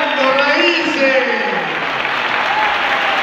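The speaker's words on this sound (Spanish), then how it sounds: "Fuerte ese aplauso para sus profesores también" An audience at a school performance applauds warmly, a steady, dense wash of clapping throughout while a voice speaks over it.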